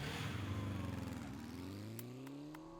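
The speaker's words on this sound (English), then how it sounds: "Hearing the bike's engine roar to life," A motorcycle engine in the video game 428 Shibuya Scramble roars loudly, its revving pitch climbing as the bike speeds away, with a few faint clicks near the end.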